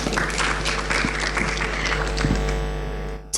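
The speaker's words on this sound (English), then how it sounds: "You can go ahead and applaud him if you'd like to." An audience applauds at a youth empowerment panel event, a dense, steady wash of clapping that holds evenly for several seconds before cutting off abruptly.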